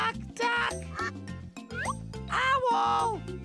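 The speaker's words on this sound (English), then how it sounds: "Duck! Duck!" Cartoonish duck quacks from a toddler's animal learning app, several loud nasal calls in quick succession over bouncy music, with a voice calling out between them.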